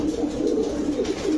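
Giribaz pigeons at a breeding farm coo softly and continuously up close, a low, rolling, throaty murmur with no voices.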